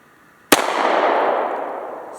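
A single loud handgun shot fired double action during headshot practice at a range: one sharp crack followed by a long, ringing decay that trails off over about a second and a half.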